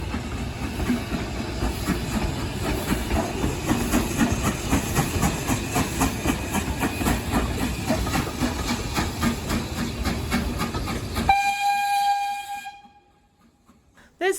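Steam locomotive 75069 on the Severn Valley Railway pulls its train backwards, close by, with rhythmic chuffing and rolling wagons, then a loud whistle blast before the sound cuts off.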